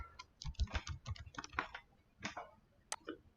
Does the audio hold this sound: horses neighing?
no